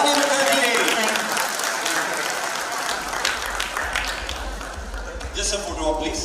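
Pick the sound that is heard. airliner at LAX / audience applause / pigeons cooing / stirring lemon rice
audience applause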